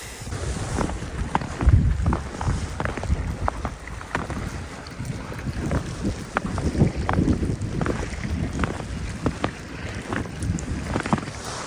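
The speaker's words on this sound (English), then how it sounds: "What direction is the wind blowing?" Wind gusts buffet the microphone beside a lake during a winter storm, a steady rough roar with irregular thumps and no talking.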